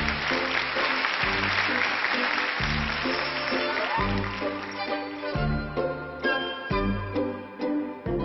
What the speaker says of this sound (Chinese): 接下来我们用掌声欢迎我们的小花童